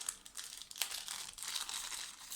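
A small plastic packet holding vintage jewelry, earrings and clip-ons, is opened and handled: close, quiet crinkling and rustling of thin plastic in a steady run of soft crackles, with no speech.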